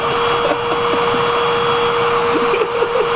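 Chainsaw engine running steadily at a constant drone, loud and continuous with a fixed pitch throughout.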